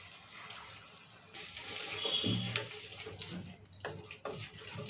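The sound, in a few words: water being poured into a mixer jar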